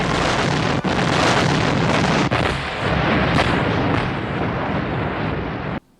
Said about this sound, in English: the military shooting a bunch of bullets that are basically like paper cuts to Godzilla, along with some missiles that don't do shit either